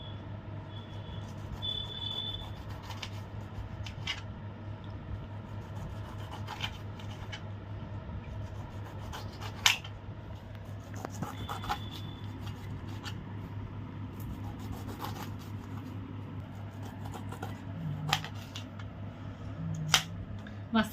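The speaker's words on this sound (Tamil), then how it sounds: "அன்னாசி பழத்தை கட் பண்ணி வைங்க" A knife works through a pineapple with faint, repeated rasping and scraping cuts over a low, steady background hum, punctuated by an occasional sharper knock.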